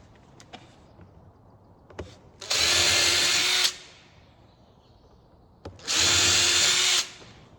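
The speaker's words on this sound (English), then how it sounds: "So I'm going to get this pilot drilled now and anchor it to the sides" A power drill boring pilot holes into the wooden front panel of a squirrel feeder, two loud steady bursts of about a second each separated by clicks and light handling noise, with no talk.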